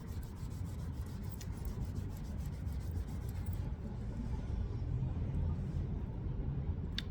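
Lion Brand yarn rubbed briskly by hand to test for pilling gives a continuous soft scratchy rubbing, close and steady throughout, with no speech.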